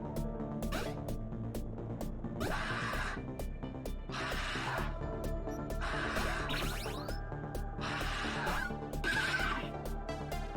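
Roach, a horse in the video game Cyberpunk 2077, lets out a series of about five loud, close whinnies at regular intervals over a continuous background hum.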